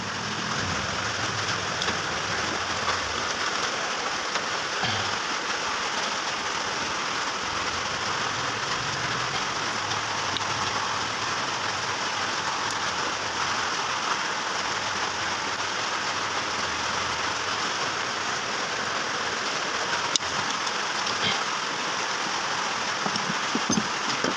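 Steady, dense rain pouring down with a constant broadband hiss, unbroken for the whole stretch, with occasional faint drips and knocks beneath it, heard during a Honda Revo motorcycle engine repair.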